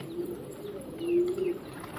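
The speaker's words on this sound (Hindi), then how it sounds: "देखिए ये कबूतर है" A pigeon gives a soft, low rolling coo, with one longer call in the middle, close by and alone with no talking.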